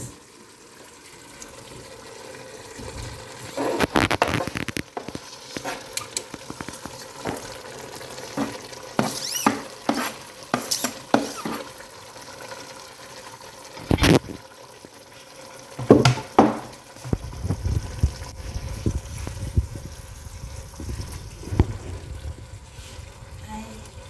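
Tomatoes being stirred into chicken curry in a pan, wet intermittent scraping and squelching strokes of a spoon, close and uneven, with quieter sizzling between bursts and a low background hum toward the end.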